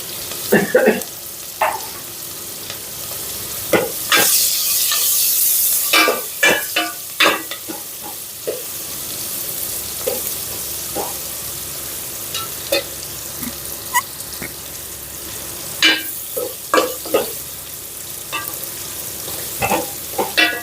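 Chopped onions sizzle and fry in a pan for Andhra-style ulavacharu, with a spoon stirring and scraping in repeated bursts over a steady frying hiss, close and fairly loud, no talking.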